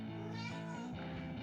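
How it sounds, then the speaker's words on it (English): A cat meows with drawn-out, tonal calls, close to the recording device, over a steady background hum. "That's my cat. Look at that."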